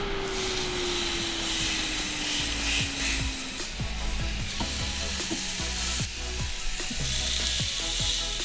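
Steaks sizzling on a Ninja Foodi Smart XL grill, a close, steady crackling fry with scattered sharp pops and a faint falling whine early on, no talk.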